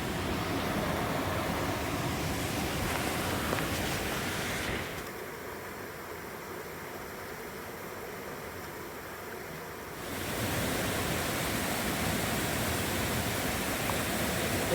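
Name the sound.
filling a water bag from a creek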